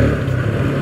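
A TVS Apache 160 2V motorcycle engine accelerates close by, a brief, steady, loud throaty drone that holds level without pause.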